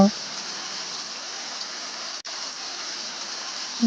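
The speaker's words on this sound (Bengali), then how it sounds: "দেখেন কি বৃষ্টি পড়তেছে" Rain falling outside a home on a rainy day, a steady broadband hiss with one brief dropout partway through.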